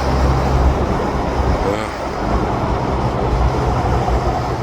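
Steady, loud rumble of eastbound and westbound passenger trains meeting and rolling past, a continuous broadband roar with rail clatter, no clear pauses throughout.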